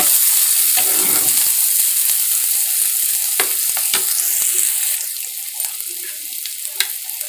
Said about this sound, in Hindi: प्याज को ब्राउन कर लेंगे।